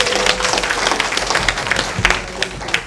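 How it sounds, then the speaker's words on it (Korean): Audience applause at a Korean citizens' public forum on household waste and incineration facilities, a steady wash of many hands clapping close by for about three seconds, with a few louder individual claps standing out. "큰 박수로 청해 드리도록 하겠습니다"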